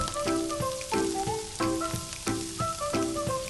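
Clam meat with chilli powder and pepper powder roasting in a pan, a steady sizzle broken by repeated stirring scrapes and clinks in a regular rhythm, close and fairly loud with no talking.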